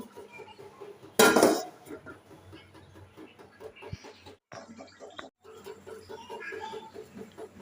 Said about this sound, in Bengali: পাতিলটা একটু কুড়াই নিলাম